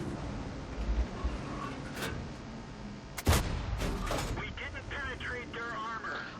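An M103 heavy tank fires its cannon in World of Tanks. A few sharp, loud cracking shots and impacts stand out over the game's background noise, and a voice talks at moderate level throughout.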